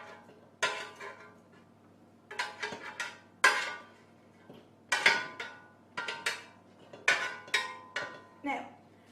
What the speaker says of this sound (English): We literally just keep piling the food into the pot.